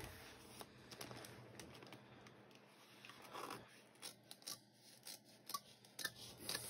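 Scissors snip and scrape through paper material for a journal, a series of quiet, close crisp cuts and rustles with short pauses between strokes.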